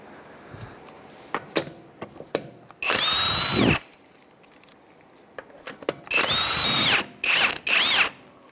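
A power tool spins off lug nuts with a 17 mm socket on a 2007-2013 Mitsubishi Outlander wheel, in two loud bursts of about a second each, then shorter whirs, between scattered clanks and taps of metal.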